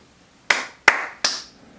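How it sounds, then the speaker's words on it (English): Three sharp hand claps, close and crisp, come in quick, evenly spaced succession in an otherwise quiet room with no talking. "Clap."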